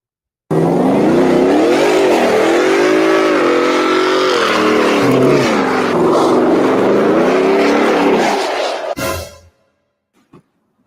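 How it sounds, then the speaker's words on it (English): A car doing a burnout in snow, engine revving hard and continuously for several seconds with wavering pitch, then cutting off abruptly, followed by a few faint knocks. "I was just doing some snow burnout."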